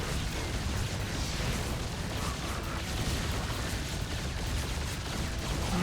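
StarCraft battle between Battlecruisers and Hellbats in a base race: dense, continuous gunfire and explosions rumbling at an even, loud level throughout, with no speech.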